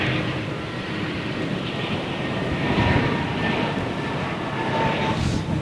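A BOAC Boeing 747 jumbo jet taxis in a broad, steady engine roar and whine that swells slightly midway, heard continuously from a moderate distance with no voices.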